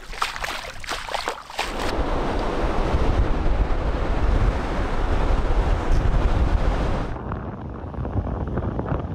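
Waves breaking on a beach on the Isle of Harris, Scotland, a loud, steady wash of surf with heavy wind buffeting the microphone, after a few brief rushes at the start.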